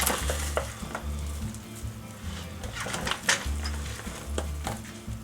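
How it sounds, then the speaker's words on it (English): A rubber spatula lifts and turns caramel-coated cheese puffs in a pan, making close, irregular scraping and rustling with soft clatter and a sticky crackle. "I'm just going to start mixing these through again"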